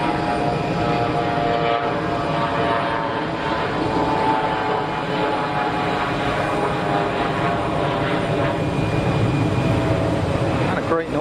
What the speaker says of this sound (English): CRJ 900 is rolling.